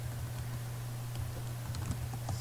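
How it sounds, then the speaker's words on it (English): Soft keystrokes patter on a computer keyboard, faint and irregular, over a steady low electrical hum while a web address is entered. "So I will type"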